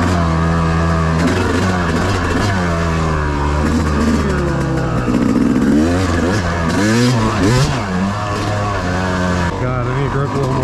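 Kawasaki dirt bike riding a sand trail, its engine revving and shifting pitch up and down close by, steady and loud throughout with talking over it.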